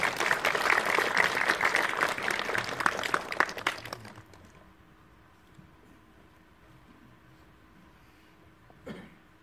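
Applause from the audience at the opening night of a Whispering Corridors 20th anniversary special exhibition, a crowded clatter of hands for about four seconds that stops abruptly, leaving quiet room tone and one short noise near the end.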